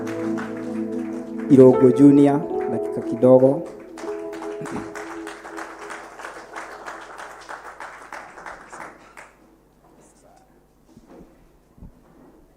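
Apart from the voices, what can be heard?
church congregation applause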